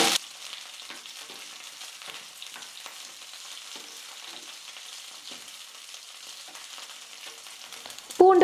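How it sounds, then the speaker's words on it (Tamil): Garlic, green chillies, curry leaves and cumin sizzle gently in a pan on low heat. The frying is quiet and steady, with occasional stirring, and ends in a sudden clink near the close. "ஸ்டவ்வை மீடியம் ஃப்ளேமில் இல்லை லோ ஃப்ளேமில் வச்சுட்டு எல்லாத்தையும் சேர்த்து நல்லா வதக்கிக்கலாம்."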